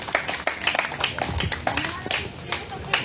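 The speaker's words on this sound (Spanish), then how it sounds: "Dele palma" Church congregation clapping hands during worship, a run of sharp irregular claps from many people, close and fairly loud, with a voice speaking over them.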